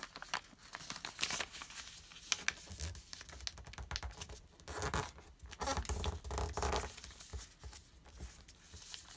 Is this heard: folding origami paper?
yes